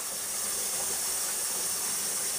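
Cooking oil spray, PAM or similar, hissing steadily into a dry ballistic gel mold, a close, continuous spray with no pauses.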